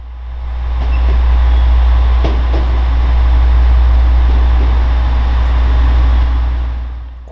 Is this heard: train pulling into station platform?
yes